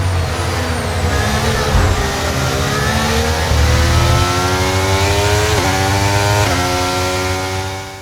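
A Formula 1 car engine in the F1 23 racing game screams at high revs in a continuous, loud whine. The pitch climbs steadily and drops sharply at a couple of quick gear shifts.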